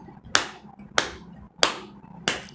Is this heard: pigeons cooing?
no